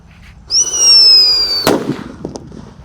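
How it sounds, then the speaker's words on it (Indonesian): A Whistling Thunder firecracker set off in a hole in the ground gives a loud, close shrill whistle lasting about a second, then one sharp bang that dies into faint crackles. "Lanjut yang akan kita nyalakan, di sini ada Whistling Thunder bosku."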